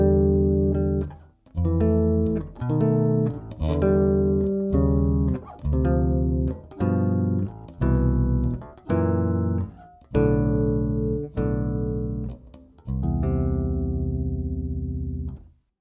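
Solo bass guitar plays an arranged melody with chord substitutions, a sequence of about a dozen sustained, evenly spaced notes and chords, each ringing clearly before the next, closing on a longer held chord.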